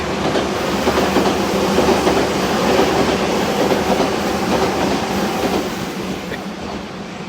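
Passenger train riding on its rails, heard from inside: a loud, continuous rumbling roar with steady rattling clatter of the wheels throughout, no talking.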